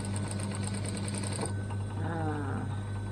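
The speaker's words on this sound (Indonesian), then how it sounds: "Jahit sampai habis." A sewing machine runs steadily while stitching horsehair braid, a fast even whir of needle strokes that stops about halfway through, leaving a quieter hum with some faint handling sounds.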